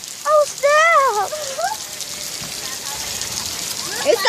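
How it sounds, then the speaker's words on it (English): Steady rain falls with a constant hiss throughout, while a high voice talks briefly over it near the start. "Look at that rain."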